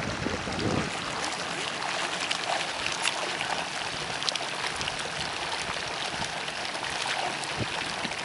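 A sulfur-smelling hot spring in west Texas flowing down its channel outdoors, giving a steady, broad trickling rush of water that carries on evenly throughout with no voices.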